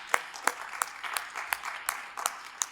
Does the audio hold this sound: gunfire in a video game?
no